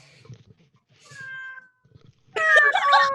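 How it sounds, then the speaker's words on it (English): A house cat meows twice, first a thin drawn-out cry and then a louder, rougher meow, close and clear, with faint murmuring voices in the background. "That's my cat."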